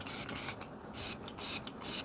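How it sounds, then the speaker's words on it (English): Half Magic setting spray misted in several short bursts, each a soft close hiss with brief pauses between, alone and fairly quiet. "if you go over it with a setting spray, which I will, I'm just going to use the one from Half Magic"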